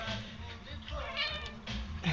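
A pet cat meows a few times indoors, fairly close and moderately soft, with faint background noise between calls.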